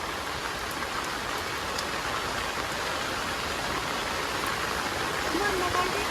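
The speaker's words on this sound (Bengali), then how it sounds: "একেবারে 4-5 দিন ভালো বৃষ্টি হইতেছে।" Heavy monsoon rain pours on a village hut covered with polythene, a constant, even hiss of drops with a soft voice heard faintly beneath it.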